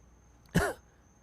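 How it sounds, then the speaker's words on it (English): A single short, throaty cough or throat clear, close and fairly loud, standing alone in an otherwise quiet room. "Excuse me for a little coughing break here."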